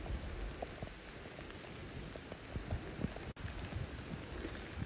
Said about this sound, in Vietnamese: Trời đang làm mưa các bạn ạ.